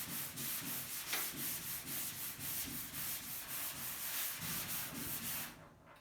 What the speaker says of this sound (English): So we're going to sand that down and see what we got.